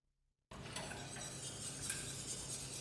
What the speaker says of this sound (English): I'm going to take some of this juice from the meat and whisk that in there.